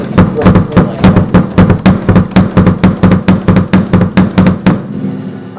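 Double bass drum kick pedals are played heel first in a rapid, even stream of close, punchy thumps, roughly four to five per second, ending with a brief ring-out.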